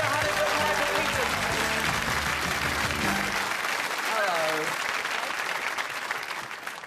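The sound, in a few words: studio audience applause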